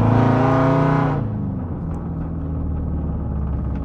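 Jeep Grand Cherokee Summit with a 5.7 V8 and catalytic converter deleted revs up loudly, then drops to a deep, rumbling idle burble, close and steady with no talking.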